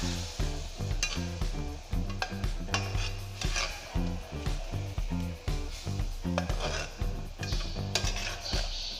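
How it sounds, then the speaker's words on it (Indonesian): Water spinach with tauco being stirred in a frying pan, a constant sizzle layered with rhythmic scraping and clanks of a utensil against the pan, close and regular throughout. "Lalu kita aduk-aduk supaya garam dan kaldunya larut."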